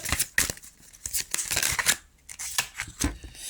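A tarot card drawn from the deck: quick dry flicks, rustles and papery snaps of cards being handled, close and fairly quiet, arriving in irregular bursts with short pauses between.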